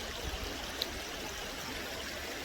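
A creek at a gold digging site flows in a steady, soft wash of running water, continuous and even with no voices.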